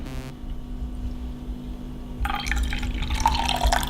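A liquid is poured into a container of vinegar during a lye color-change experiment, giving a continuous trickling, splashing fill that swells louder partway through, close to the listener with no talking.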